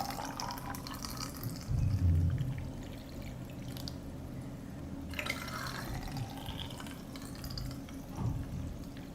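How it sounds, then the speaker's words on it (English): Cold water poured into a glass jar packed with cut cucumbers, a continuous close splashing and trickling stream with a louder gurgling surge early on, then steady filling and dripping, no talking. "I pour cold water into the jar to cover the cucumber."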